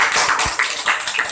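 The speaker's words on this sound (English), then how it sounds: "now you may clap your hands for our guest" A studio audience claps for a guest, with steady, close, dense clapping and a few sharper individual slaps standing out throughout.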